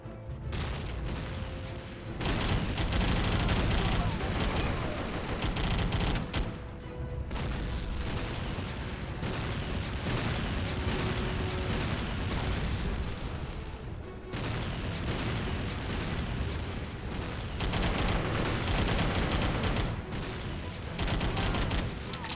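Continuous video game shooter gunfire, dense rapid bursts of shots and booms filling the whole stretch with only brief pauses between volleys, loud and close.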